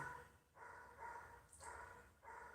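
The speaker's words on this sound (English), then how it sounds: "if you're listening to the dog barking sound in the background" A dog barks repeatedly in the background, four moderately loud bursts spaced roughly half a second to a second apart, heard at a distance during a live breathing and meditation session.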